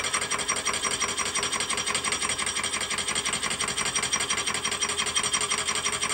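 Milling machine cutting an aluminium tooling plate on a fine feed along the back edge, a steady, continuous whirring and rasping cut that holds even and close throughout with no talking.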